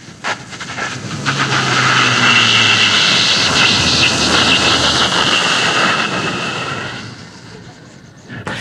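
A voice imitates a Boeing 747 jet airliner taking off, a loud rising roar that swells, holds steady, then fades away.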